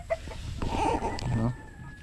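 Chickens raised at a poultry-care seminar cluck in a short burst, with a few sharp calls early on and a louder stretch of clucking through the middle before fading to quiet.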